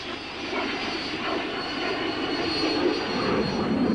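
Four RNZAF de Havilland Vampire jets from number 75 squadron flying an aerobatic display, a continuous roaring jet-engine rush that swells gradually louder as they pass, heard alone without voices.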